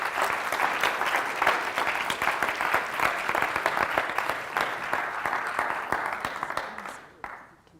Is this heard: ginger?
no